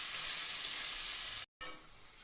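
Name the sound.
cashew, mustard, poppy, ginger and chili paste sizzling in oil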